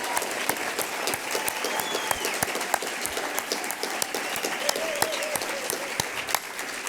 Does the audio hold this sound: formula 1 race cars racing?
no